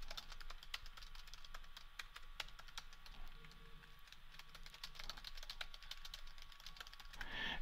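Someone types an email welcome message on a computer keyboard, giving a quiet, close run of rapid, uneven key clicks with brief pauses, alone without speech.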